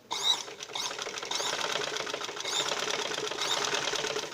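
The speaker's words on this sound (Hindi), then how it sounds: "अब हमने मशीन के साथ इसको सिलाई लगानी है।" A sewing machine runs continuously along the edge of a lined shalwar, a close, even mechanical whirr with faint ticking that holds steady for the whole stretch.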